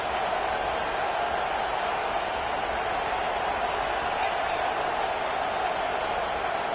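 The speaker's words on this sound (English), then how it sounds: "Decibels rising as the crowd gets behind this defense on 3rd down." A college football stadium crowd roars steadily during a Tennessee versus LSU game on third down, a dense, continuous wall of cheering noise that holds loud and unbroken throughout.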